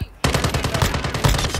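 Automated turret in Call of Duty firing a rapid, loud, close burst of evenly spaced shots that starts abruptly and rattles on without pause.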